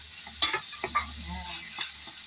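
Garlic frying in a pan, a quiet steady sizzle with a few sharp scrapes and clinks of stirring.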